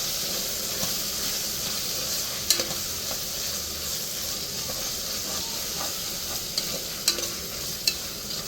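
Sliced tomatoes and a green chili are stirred in a hot pan for gongura pulao, giving a steady close sizzle and hiss with sharp spoon scrapes and clicks against the pan.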